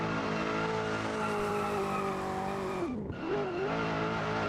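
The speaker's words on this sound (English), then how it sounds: "Supercharged LS under the hood." A race car with a supercharged LS engine during qualifying at the Nurburgring: a loud, sustained engine drone that dips sharply for a moment as it slows, then picks back up, with a possible brief tire squeal.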